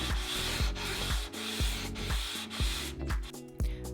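Sandpaper on a radius block rubbed over a bass fretboard, rhythmic back-and-forth scraping strokes about twice per second, close and steady with a gritty hiss on each pass.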